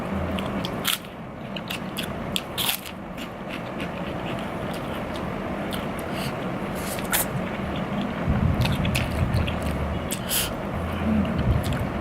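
Mukbang eating of Korean spicy mala-flavored noodles with Cholula and Valentina hot sauces, with close, loud slurping, biting and chewing that continues steadily, punctuated by sharp clicks and crunchy bursts.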